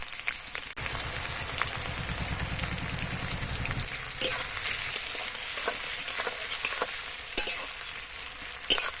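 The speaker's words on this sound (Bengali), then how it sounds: "সবকিছু হালকা গরম হয়ে গেছে, এবার দিয়ে দেবো পেঁয়াজ কুচি।" Chopped onion hitting hot oil with bay leaf, cinnamon, cardamom and cloves, a steady crackling sizzle with a few sharp utensil clicks, moderately close and without talk.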